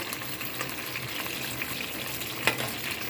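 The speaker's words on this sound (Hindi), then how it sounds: "अच्छी तरह इसको थोड़ा सा भूनने देंगे" Beef and spices fry in a pot with a dense, continuous close sizzle and crackle, holding steady throughout with a few brief sharper pops.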